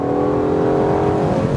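A 2020 Aston Martin DBS Superleggera Volante engine pulls under acceleration, a loud, steady, close drone with a rising tone and no talking over it.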